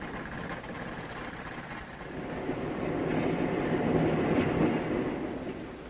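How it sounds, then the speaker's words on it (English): Parallel-controlled diesel locomotives haul a Titan missile stage over a double set of tracks to the solid motor assembly building, a steady rumbling roll of rail wheels that swells gradually, with no voices. "parallel-controlled diesel locomotives transported over a double set of tracks to the solid motor assembly building"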